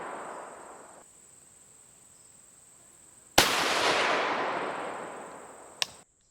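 A 6mm rifle fires a single shot loaded with Reloader 17 powder: one sharp, loud crack that then decays, with a faint hiss before it and a short click near the end.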